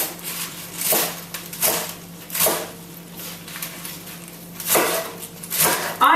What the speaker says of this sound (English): And then I'm going to just slice them into fine